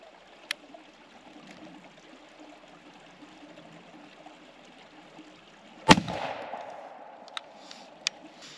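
A turkey shotgun fires once at a patterning target outdoors, a single sharp loud blast with a short rolling tail, set against quiet background and a couple of faint clicks.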